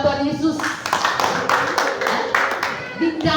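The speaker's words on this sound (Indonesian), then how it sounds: "Tepuk tangan buat Tuhan Yesus." A church congregation at a worship service claps for Jesus in a burst of hand claps mixed with voices, loud and close, lasting a few seconds.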